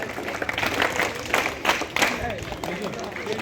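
An audience at an NSS annual camp claps to welcome guests onto the stage, a brief burst of crowd applause mixed with voices talking over it.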